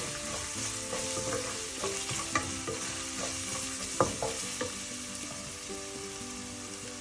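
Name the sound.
stirring white tuna fish curry in a pan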